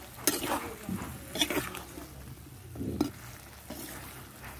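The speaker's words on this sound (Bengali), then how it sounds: "আদা দেওয়ার পরে সেটা ভেজে দিতে হবে তরকারির সঙ্গে" Ginger frying with mixed vegetables such as drumstick, bottle gourd, potato and tomato in a pan, heard as a steady soft sizzle broken by a few scraping stirs of a spatula, close and fairly quiet with no talk.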